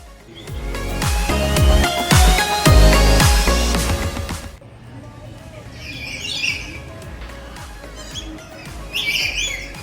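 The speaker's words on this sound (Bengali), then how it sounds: "এখানে ব্লু আর ইয়েলো ম্যাকাও দেখা যাচ্ছে" Harsh blue-and-yellow macaw squawks ring out in short bursts over a loud, clattering background at a zoo, calls repeating a few times as a voice talks nearby.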